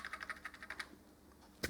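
Keys pressed on an Atari STFM computer keyboard: about eight quick, evenly spaced clicks close up, a short pause, then one final sharp keystroke, with no talk.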